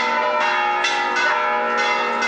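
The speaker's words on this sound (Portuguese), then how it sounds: "por que que o sino está tocando assim?" A church alarm bell rings in repeated, closely spaced strokes, each one loud and resonant and overlapping the ringing of the last.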